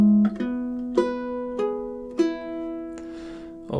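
Measures seven and eight of the classical piece "A Little Flower" are fingerpicked on a ukulele: a handful of soft, sustained plucked notes played slowly and close, with no talking.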